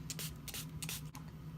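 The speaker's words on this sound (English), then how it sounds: "I'm gonna start by spraying my face with tea tree oil" Tea tree oil is spritzed onto a face from a spray bottle in three or four quick hissing bursts, close and soft, against a low background hum.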